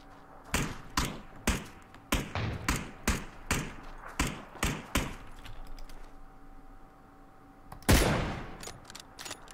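Rapid gunfire in the battle royale game PUBG: about a dozen sharp, evenly spaced shots, then a brief pause and one louder, closer blast with a lingering tail. No one talks.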